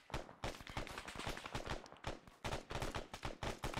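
Rapid bursts of automatic and rifle gunfire crackle through a Marine squad's field training exercise, sharp overlapping reports in quick irregular volleys, close and loud, with brief pauses between strings of shots.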